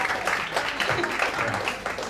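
Audience applause at a PechaKucha Night presentation event in a Bali venue, moderate steady clapping lasting a couple of seconds, with some voices mixed in.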